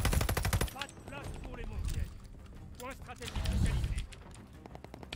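Rapid bursts of automatic gunfire in Call of Duty Vanguard crackle repeatedly, with voices talking over the shooting throughout.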